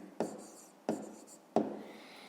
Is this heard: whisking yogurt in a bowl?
no